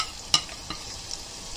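Garlic and chillies fry in hot oil in a pan for a Konkani-style okra dish, giving a faint, steady hiss with a sharp utensil click near the start and a softer one after it.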